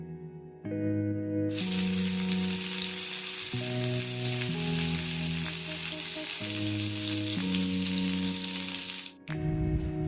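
Stuffed brinjals hit hot oil in a pan and hiss into a loud, steady sizzle for most of the stretch, cutting off near the end, with soft background music tones running underneath throughout.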